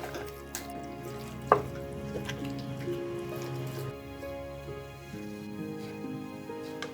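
Chicken is stirred in a pan with spices and ginger-garlic paste for a curry, giving a steady sizzle and scraping with one sharp utensil clink early on, close by and without talk.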